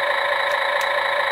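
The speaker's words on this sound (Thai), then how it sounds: "ปุ่มนี้คือกดปุ๊บนี่มีเสียงเครื่องยนต์" A toy remote-control crane's built-in engine sound effect plays as a steady electronic hum, loud and alone, with two faint high clicks partway through.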